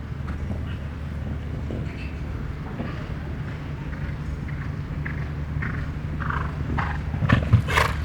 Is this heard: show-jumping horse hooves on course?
yes